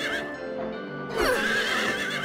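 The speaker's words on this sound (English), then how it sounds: "Why do I need to kill the horses?" A horse neighs in the video game Silent Hill 3, a loud wavering whinny that rises then falls over a steady droning background tone, with no talk over it.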